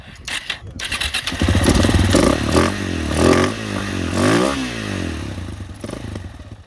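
A motorcycle engine being run while a fuel line problem is sorted out, starting up and then holding a loud, rough, steady running tone with slight rises in revs, close by and filling the whole stretch.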